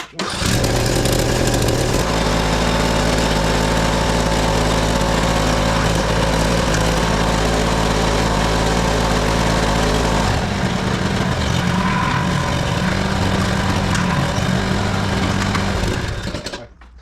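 A small Craftsman lawn mower engine drones steadily and close, its buzzing pitch shifting a couple of times as the speed changes.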